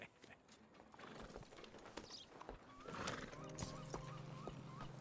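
A horse in Red Dead Redemption 2 clip-clops on the ground and lets out a neigh; hoof steps are soft and intermittent, a whinny rises near the end, all fairly quiet.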